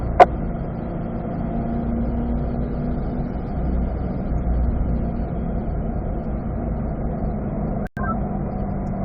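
A Corvette on a race track drones at steady, moderate engine load for several seconds, heard from inside the car with a continuous mid-pitched hum, one sharp click near the start and a brief dropout near the end.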